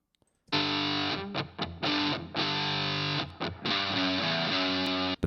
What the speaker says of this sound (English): it's really just the distortion guitar here with some power chords at the bottom